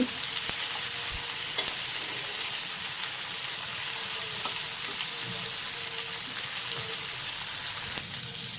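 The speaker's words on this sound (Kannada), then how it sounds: "ಸೊ ಇದೇ ಥರನೇ ಎಲ್ಲ ನಾವು ತಿರುಗಿಸ್ಕೊಂಡು ತಿರುಗಿಸ್ಕೊಂಡು ನೀಟಾಗಿ ಫ್ರೈ ಮಾಡ್ಕೊತಾ ಇರಬೇಕು" Pieces of tandoori chicken fry in a pan, giving a steady close sizzle and crackle as they are turned, with faint scrapes and clicks from the utensil and no voices.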